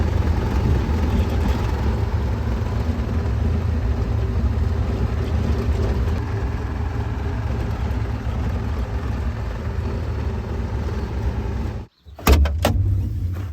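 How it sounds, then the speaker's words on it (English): An excavator's engine runs steadily as it drives down a road beside a driveway ditch, a loud continuous low rumble with a brief sharp dropout and clatter near the end. "I'm driving the excavator down the road"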